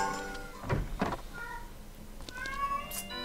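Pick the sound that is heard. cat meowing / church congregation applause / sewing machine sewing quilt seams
cat meowing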